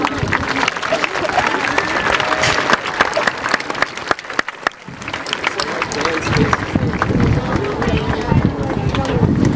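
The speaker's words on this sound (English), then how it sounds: "Let's give your parents a round of applause." An outdoor audience claps for parents at a 1999 Paramus High School graduation, a loud, steady wash of applause with wind rumble and a brief dip midway, lasting the whole stretch.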